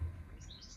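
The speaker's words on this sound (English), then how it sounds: "Oh, hello, pigeon." A bird calls from the yard of a workshop where a 2014 Mercedes Sprinter van is being converted, faint short chirping notes over low background hum, no talking.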